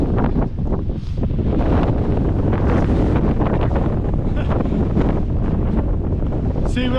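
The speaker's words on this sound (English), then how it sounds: "See what I mean about the wind in Canterbury? It's horrible." Strong wind on Mt Oxford in Canterbury buffets the microphone in a loud, continuous roar with gusty surges, very close and unbroken for the whole stretch.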